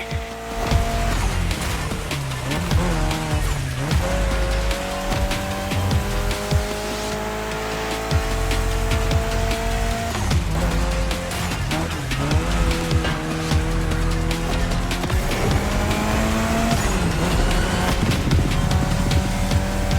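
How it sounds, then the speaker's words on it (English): A Mitsubishi Lancer Evo X races in The Crew Motorfest, its engine droning and shifting in pitch while tires squeal through repeated skids, loud and continuous with no voices. "your new ride, Touge's Mitsubishi Lancer Evo X"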